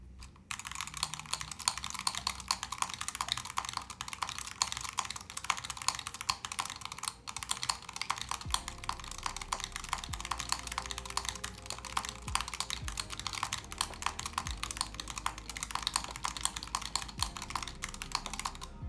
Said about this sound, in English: Angel, want to hear the best keyboard I've ever built in my entire life?